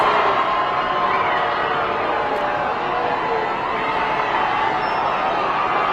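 A large crowd cheers and shouts continuously in the distance at the Kansas City Chiefs Super Bowl parade, a steady wash of voices with no single speaker standing out.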